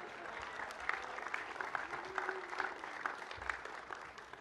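Audience applause at a hall of fame induction ceremony in a hall, a steady mix of claps at moderate level with no talk over it.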